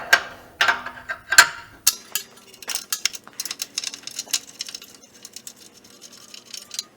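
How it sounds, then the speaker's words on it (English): A wrench turned by hand on a bolt while installing a hitch on a 2015 Jeep JK, a series of close metallic clicks and clanks in an irregular rhythm, with no talking. "so I'm going to do it by hand with a wrench."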